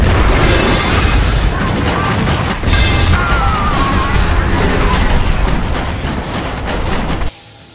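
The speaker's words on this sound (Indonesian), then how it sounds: "Hingga saat bom sudah selesai meledak" A bomb set in a factory goes off in a film, a loud, sustained roaring blast with crackling debris and rumbling that surges midway, then cuts abruptly to quiet near the end.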